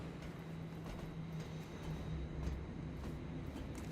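A train rolls along in the video game Remnant 2: a low, steady rumble with a droning hum and faint rhythmic clacks, quiet and continuous with no talking.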